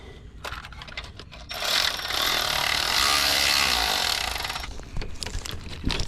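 A ratchet tightens the bolt and nut on the alternator of a 2000 Infiniti I30: scattered clicks, then a few seconds of loud, sustained, dense mechanical rasping that fades back into sparse clicks and knocks. No talk.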